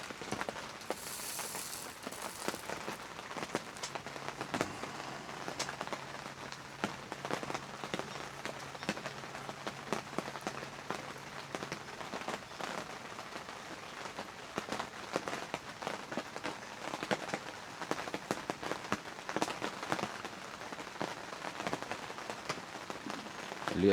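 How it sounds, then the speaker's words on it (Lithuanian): Rain falls steadily outdoors, a faint, continuous patter of drops on surfaces with scattered sharper ticks and crackles over a soft background wash. "Lyja lietus, lyja lietus."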